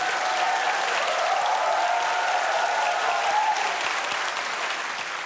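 Studio audience at a Korean KBS comedy show breaking into sustained applause, a dense, even clapping that holds steady and fades slightly toward the end.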